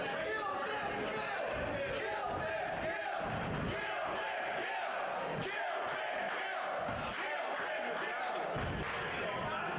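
A live crowd at a bloody independent wrestling event makes a continuous roar of cheers and shouts, with a commentator talking over it and a few slams and impacts breaking through.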